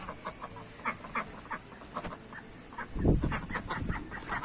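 Ducks on a farm calling during feeding time, with scattered short quacks and clucking calls at moderate distance, and a louder burst of rustling activity near the end.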